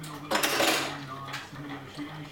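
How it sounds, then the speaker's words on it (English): Spoon scraping and clinking against a bowl while stirring borax into water for homemade slime, a brief close rattle that fades over about two seconds. "So, you stir it until it's all dissolved."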